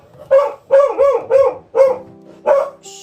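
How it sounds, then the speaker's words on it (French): A dog barks right after a doorbell rings, giving five loud, close barks in an uneven rhythm, each short and harmonic, followed by a brief high tone at the end. "excusez-moi pour le chien et tout ça"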